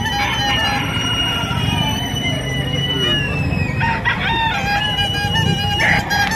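A straight-combed rooster offered for sale at a chicken market crows clearly and at length, with other fowl clucking in the background and a continuous crowd murmur underneath.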